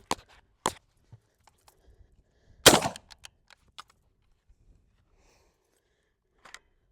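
A rifle bolt is dropped on a magazine-fed AK-style gun, giving one loud sharp metallic clack near the middle with a few faint clicks and small knocks scattered before and after in otherwise quiet surroundings.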